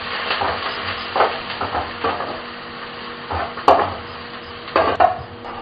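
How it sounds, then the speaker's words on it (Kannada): Chopped onions frying in a pan for paneer bhurji, a steady soft sizzle with intermittent louder stirring scrapes and clinks of a utensil against the pan, close and alone without talk. "ಈಗ ಚೆನ್ನಾಗಿ ಫ್ರೈ ಮಾಡ್ಕೊಳ್ಳೋಣ"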